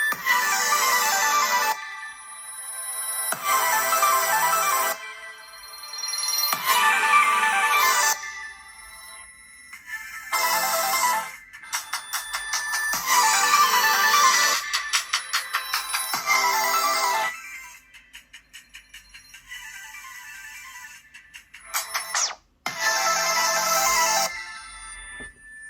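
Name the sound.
Pixel 6 Pro phone ringtones played loud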